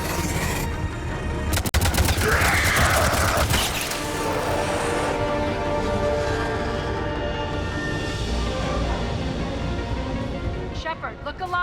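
Sustained gunfire from Mass Effect 3 rattles in a dense, loud barrage for several seconds, then thins into mechanical whirring and scattered clanks as the shooting tails off.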